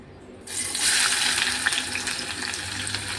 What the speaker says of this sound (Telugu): వేసుకొని ఫ్రై చేసుకుందాం బాగా కరివేపాకు కూడా వేసాను